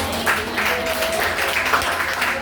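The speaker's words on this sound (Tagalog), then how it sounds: "Isang pupuling palakpak kay Sister Lisa Gatsil." A church congregation applauds for Sister Lisa after her Sunday talk, a moderate, continuous patter of clapping with a voice faintly mixed in beneath it.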